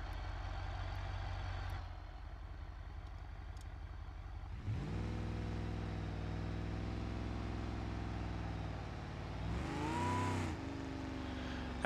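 A clutch strains under a straining, droning engine in the BeamNG.Drive driving game, a steady loud mechanical whine that holds for several seconds and then bends in pitch near the end, with no talk.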